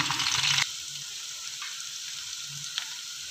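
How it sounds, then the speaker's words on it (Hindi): Ginger garlic paste sizzles with browning onions in a pan for vegetable pulao. A loud burst of frying at the start drops to a steady, softer sizzle with faint clinks, close up and with no talk. "और इसमें डाल देंगे जी एक चम्मच अदरक लहसुन, और इसको हम करेंगे ब्राउन।"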